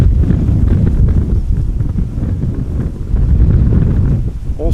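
Strong gusty wind buffets an outdoor microphone at Amsterdam Schiphol Airport during crosswind landings, a loud continuous low roar that swells and eases.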